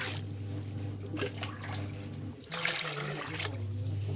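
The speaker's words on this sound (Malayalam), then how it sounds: "ഇനി വെള്ളമൊക്കെ ഒഴിച്ചിട്ട് നല്ലവണ്ണം എല്ലാ തലയൊക്കെ കളഞ്ഞ് നല്ല ക്ലീൻ ചെയ്തെടുക്കാം" Water runs and splashes over fresh anchovies being washed and cleaned for pickle, a steady trickling pour with a louder burst of splashing partway through, close by, with a low steady hum beneath.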